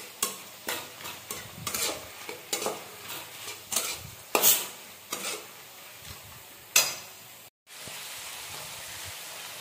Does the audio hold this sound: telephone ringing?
no